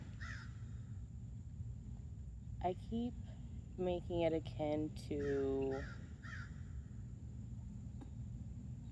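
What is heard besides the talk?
loud birds calling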